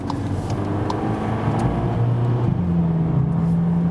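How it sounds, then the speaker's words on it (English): A VW Polo GTI engine hums steadily from inside the small car, then its tone climbs as it revs, a loud, continuous drone with a smooth rise in pitch. "Actually, nice sound always from such a small car."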